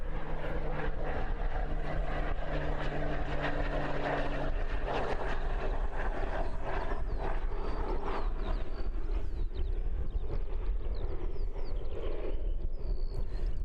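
A Sounds Air Pilatus PC-12 turboprop approaches to land at Christchurch Airport on a windy evening, a steady propeller and engine drone under wind noise, fairly distant and moderately quiet.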